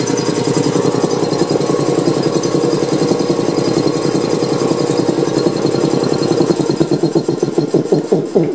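A rapid, steady chugging pulse comes from an air compressor motor that is running and pumping air. It is loud and close, with the rhythm loosening and slowing slightly near the end, and there is no talk.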